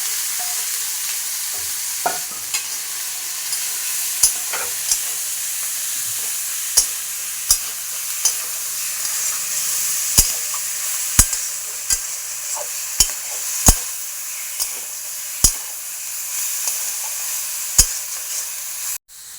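Marinated chicken frying in a pan with a little cumin, a steady loud sizzle broken by sharp spatula scrapes and knocks at irregular intervals as the meat is stirred, with no talking.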